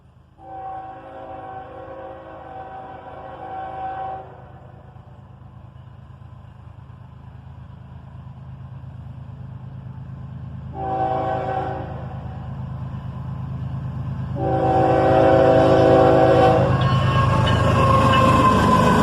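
A southbound manifest freight train led by ES-44 ACH and AC-44 CW locomotives sounds loud horn blasts in three bursts over a steady, building engine rumble, ending as the train roars past close by.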